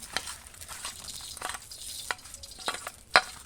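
Pieces of fessa fish frying in a pan give off a soft, steady sizzle, broken by a few sharp spits and pops and the clack of a utensil.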